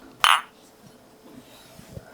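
A single bright glassy clink rings out near the start, followed by quiet low rustling and faint background murmur.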